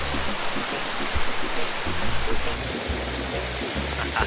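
Golden-rock mountain waterfall pouring into a deep natural swimming pool in summer, a steady broadband rush of falling water close by that fills the whole clip, with no talk over it.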